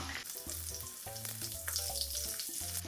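Mackerel frying skin side down in a pan, an even, close sizzle with some clinking and tonal background sounds underneath, no talk.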